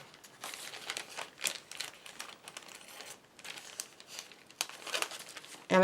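A single sheet of card paper cut with scissors in irregular crinkly bursts of snipping, close up and fairly quiet, with brief pauses between strokes.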